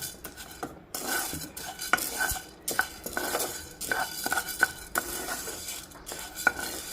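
Toor dal lentils roast in a pan over a low flame while a metal spoon stirs and scrapes them, making irregular clinks and taps against the pan over a soft, dry rustle.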